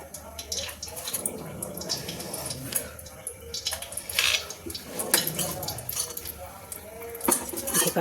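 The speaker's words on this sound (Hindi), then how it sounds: "इसके छोटे छोटे पीस काट देते हैं।" A knife chopping a block of paneer into small pieces in a home kitchen: light, uneven taps and clicks against a surface with faint clatter, close by, with a little background voice.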